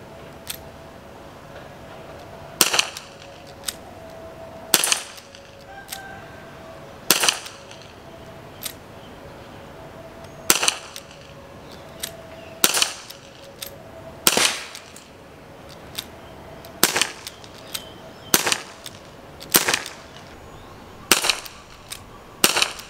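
An Aiesoft WG708 2.5-inch CO2 revolver fires a string of sharp, loud pops at irregular intervals, some spaced seconds apart and others in quick pairs, each crack close and distinct against a quiet background.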